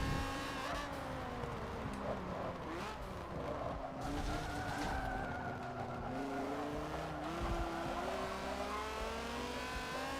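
A cab spins out in a Forza 7 S class race, its tires squealing and skidding in long, wavering tones over the steady roar of racing engines, loud and close, with no talk.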